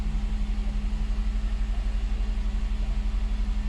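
A 2016 Jeep Cherokee engine idles close by, giving a steady, even low hum with a faint regular pulse throughout.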